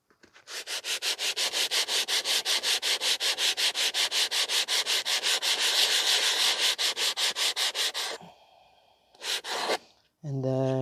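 Rapid rhythmic rasping of 80 grit coarse aluminum oxide sandpaper scrubbing a brake part on a 2020 Honda CR-V 1.5, dozens of even back-and-forth strokes, close and loud, then a few shorter bursts after a pause.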